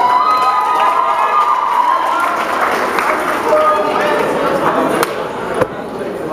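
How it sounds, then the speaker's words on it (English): Audience at an illusionist's stage show cheering and applauding as a volunteer is called up, loud and continuous crowd noise with shouts, then dropping off near the end. "round of applause, this man in the white hat"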